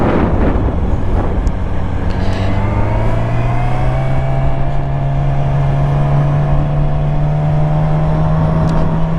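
A Yamaha R6 motorcycle ridden with no front brakes on a warm day, its engine holding a steady droning tone that rises gradually, under constant wind rush from riding.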